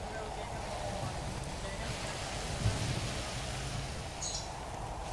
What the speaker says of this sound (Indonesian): Itu hujan.